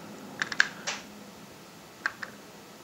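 Sharp clicks from the rocker switch on a Vivitar controller, heard in small clusters: three quick ones early, a pair a bit later and a last one at the end, close and fairly faint over quiet background hiss.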